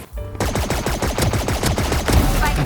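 Rapid automatic gunfire in the video game Valorant: one long sustained burst of evenly spaced shots, loud and close, running without pause for nearly the whole stretch.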